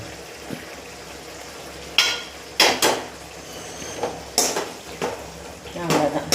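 Cumin salt chicken being stirred in a pan, with a spoon scraping and clacking against the pan in irregular bursts over a faint cooking hiss.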